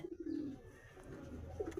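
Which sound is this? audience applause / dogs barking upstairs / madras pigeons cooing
madras pigeons cooing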